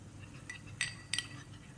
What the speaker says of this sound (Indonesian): saya pakai 1 sendok makan tepung maizena yang saya campur dengan sedikit air. Diaduk sampai tepung maizenanya larut